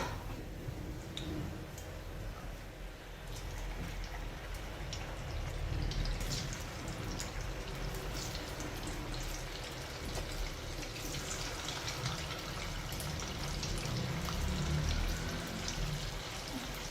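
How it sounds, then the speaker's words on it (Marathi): Pieces of cabbage tikka, a cabbage Manchurian-style snack, deep-frying in hot oil, giving a steady, soft sizzle and crackle with scattered small pops throughout, fairly quiet and continuous. "तर बाकीचे सर्व असेच तळून घेऊया"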